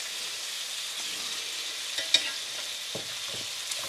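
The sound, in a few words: tortillas de vapor and porkchop frying in a pan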